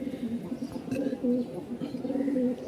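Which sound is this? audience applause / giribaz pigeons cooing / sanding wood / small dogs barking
giribaz pigeons cooing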